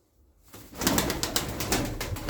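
Tumbler pigeons, including smoky and honey-coloured show birds, coo steadily in a pulsing run close by after a brief quiet opening, with no voices.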